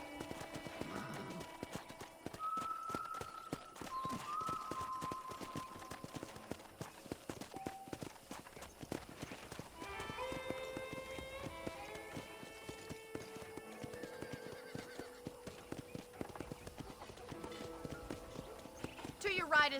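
In the Red Dead Redemption video game, a horse gallops on a ranch with steady, rapid clip-clop hoofbeats throughout, and occasional whinnies come amid game music and characters talking.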